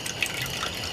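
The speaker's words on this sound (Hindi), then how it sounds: "फिर ये पानी टपके की आवाज कहाँ ले आवत है यार?" Water dripping in a quiet spot with no rain falling, faint soft drips and trickling over a steady hiss, close by and with no one speaking.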